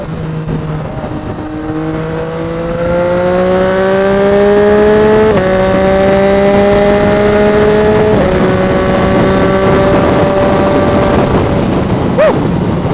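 Motorcycle ridden through traffic, its engine note climbing through repeated gear changes in a loud, close, rising whine, with a brief sharp burst near the end and no speech.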